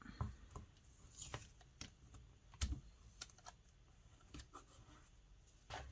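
String being wrapped and taped around the end of a book used as a tapestry loom, heard as faint, sparse, close crinkles and taps with quiet gaps between them.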